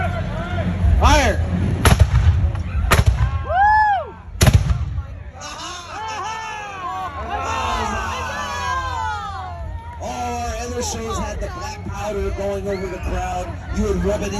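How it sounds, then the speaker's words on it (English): Swivel guns fire loudly port to starboard at a pirate show at the King County Fair, with several sharp booms early on, followed by crowd noise, cheering and babble. "Swivel guns."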